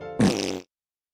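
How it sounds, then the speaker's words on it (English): A loud, brassy fart bursts out for about half a second in a comedic sketch, preceded by a low tonal hum and followed by silence. "I am sorry that I farted."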